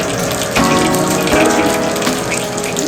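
Soaked, washed rice tipped into a pot of boiling water for tomato rice, heard as a loud, continuous rushing pour and splash of water, close by, with no talking.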